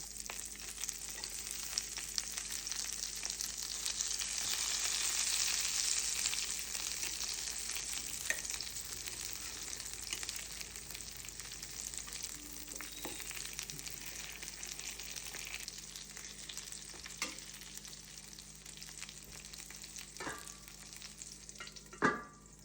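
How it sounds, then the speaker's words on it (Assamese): Brinjal (eggplant) slices frying in a pan give a steady, moderate sizzle that is loudest early on and then settles, with a few faint clinks and one sharp knock near the end. No one speaks. "ইপিনে বেঙেনা ভাজি হৈয়ে যাব।"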